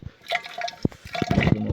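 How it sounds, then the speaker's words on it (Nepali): Water being filled into a container outdoors in a village, splashing and gurgling in uneven bursts, close and moderately loud. "अहिले चाहिँ म पानी थाप्दैछु है।"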